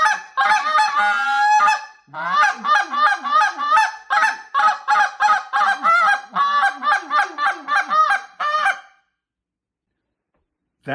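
A goose call blown in a loud, close run of repeated honks and clucks, its reed tuned by flicking it with a fingernail. The sequence is choppy and fast, pauses briefly once, then stops into silence.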